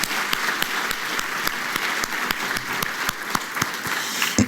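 Sustained audience applause for panelists at the Congressional Black Caucus Foundation's 43rd Annual Legislative Conference Africa Braintrust in 2013, a dense, steady wash of many hands clapping with sharper individual claps standing out, fairly close and filling the room.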